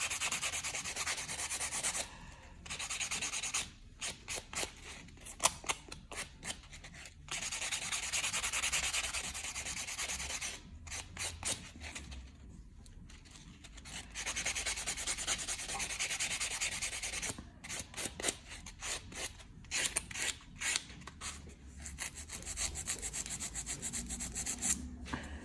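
Acrylic nails are filed with a 100-grit white sanding block, close brisk rasping strokes in rapid rhythmic bursts separated by short pauses.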